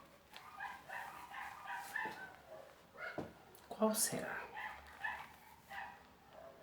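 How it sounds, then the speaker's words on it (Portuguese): Small neighbourhood dogs bark and yip in the distance, a scattered, faint chorus running beneath a person speaking nearby. "Os cachorrinhos da região estão dizendo que é a letra A"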